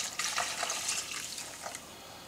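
A cup of red wine pours into a bowl of Greek loukaniko sausage seasoning mix, a continuous close splashing trickle that tapers off gently toward the end.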